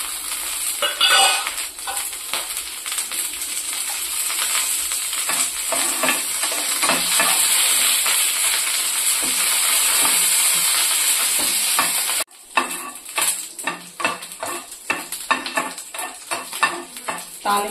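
Dried red chillies and curry leaves sizzle loudly in hot oil for a tempering, a steady crackling hiss that cuts off sharply near the end, followed by scattered spoon scrapes and softer sputtering.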